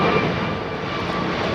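A JetBlue jet climbing out from Heathrow, bound for New York, gives a loud, close, continuous engine roar that fills the whole brief moment.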